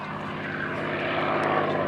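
A North American P-51D Mustang named "Quick Silver" runs at an air show. Its propeller engine makes a steady, loud drone with a low hum, and the sound holds even throughout.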